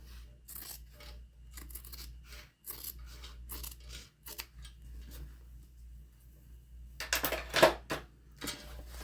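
Scissors snip through zipper pocket lining pieces of a fabric tote bag, trimming the edges even: a run of short, crisp cutting sounds close by, ending in a louder burst of snips.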